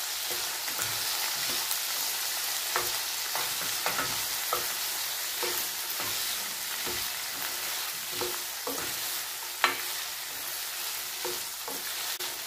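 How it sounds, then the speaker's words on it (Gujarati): Chopped okra being stirred in a hot pan for spicy bhindi masala, a steady sizzle broken by repeated scraping strokes of the spoon at an even rhythm, with one sharper clack near the end. "અને હવે આપણે ભીંડાને સારી રીતે તેની અંદર મિક્સ કરી લઈશું."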